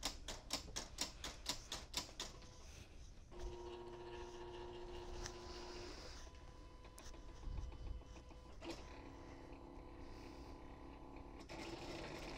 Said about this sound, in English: So it's cutting my Easy Weed vinyl first.